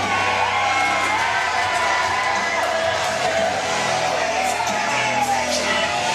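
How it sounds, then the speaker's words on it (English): A wrestling crowd at a live match cheers, whoops and yells continuously, a dense wall of loud voices that stays intense from start to finish. "the crowd is loving it"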